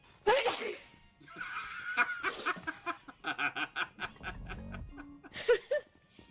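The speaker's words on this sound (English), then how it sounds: "Seeing a guy sneeze." A man sneezes in short, sharp bursts at the start and again near the end, mixed in with quiet chuckling and voiced sounds from people nearby, all fairly soft and close.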